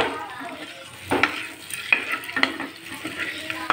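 Eggs fry in hot oil with salt and chili powder, a steady close sizzle broken by scraping stirs and occasional metallic clinks of a spatula against the pan.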